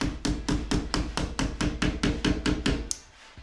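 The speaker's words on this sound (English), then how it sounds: "and then you can simply just hammer this into place" A hammer strikes a nail into an IKEA Pax wardrobe panel in a steady run of about twelve sharp, evenly spaced blows, close and loud, ending with a lighter final tap.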